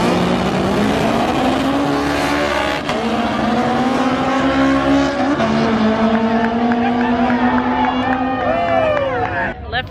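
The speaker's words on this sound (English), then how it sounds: "We've got a turbo car, I believe, and an all motor car." Loud race car engines, a turbocharged car and a naturally aspirated car, roar and climb in pitch as they accelerate down a no-prep drag strip, with crowd noise and voices mixed underneath.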